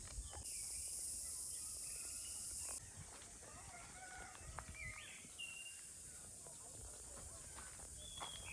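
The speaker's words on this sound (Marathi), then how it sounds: "संध्याकाळ होतं आणि पक्ष्यांचा आवाज बघा" Birds call in the evening countryside of a Konkan mango orchard: several faint chirps and short whistles scattered across the scene, far off and quiet over a soft hiss of insects, with a brief high buzz at the start.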